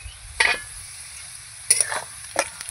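Potatoes with chopped onion sizzle in a pan under a soft continuous hiss, broken by three or four scraping strokes of a spatula stirring, close and fairly loud, no talk.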